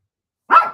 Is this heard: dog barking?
yes